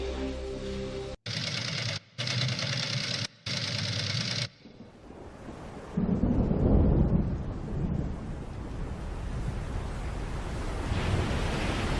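A Force 10 storm in Alaska brings heavy rain and rolling thunder, a dense roaring wash that swells loudly in the middle after several harsh, choppy bursts at the start.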